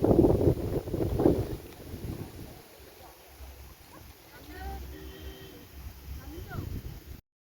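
Cold wind buffets the microphone in loud gusts on the Illikkal Kallu hilltop in Kerala, easing to a steady low rush, while a person talks faintly in the background.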